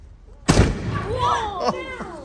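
A single loud gunshot, a firearm discharged on command, cracks out sharply and then rolls off. Excited voices follow right after.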